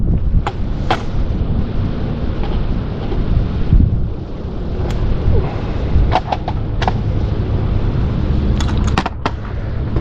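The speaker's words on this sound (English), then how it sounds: "it's kind of windy out today" Loud gusty wind buffets the microphone outdoors in a continuous rumbling roar, broken by a few sharp knocks and clicks.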